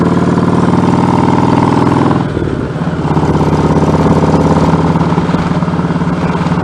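A Kawasaki Voyager 1700 touring motorcycle fitted with Cobra exhaust pipes rumbles loudly and steadily while riding, with a brief dip in engine note as the throttle eases before the deep drone resumes.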